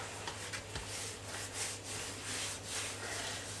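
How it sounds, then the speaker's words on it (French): Repeated soft rubbing strokes against a floured, baked sourdough loaf, close and faint, rhythmic brushing with no voices. "Je le frotte un petit peu pour enlever le surplus de farine"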